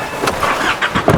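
A car engine turning over and starting during a wildlife outing in Zambia, a short mid-level burst of mechanical noise with a couple of louder surges, no talk heard.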